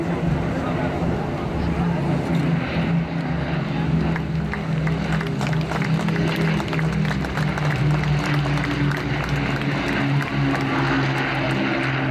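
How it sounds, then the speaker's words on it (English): A Supermarine Spitfire Mk V propeller fighter flies past at the 2017 Blackpool airshow, its engine a loud, continuous drone throughout, with a voice heard over it. "Spitfire 5."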